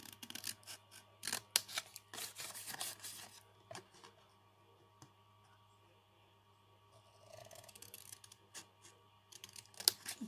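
Scissors cutting by hand along a score line in a handmade craft piece, heard as quiet, close snips and rustles that come in short clusters separated by near-silent pauses.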